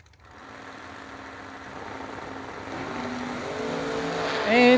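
A 1977 Ford Mustang race car at a drag strip event revs and accelerates, a rising engine roar building steadily over a few seconds and swelling loudest at the end, heard from moderate distance with a commentator's voice briefly over it.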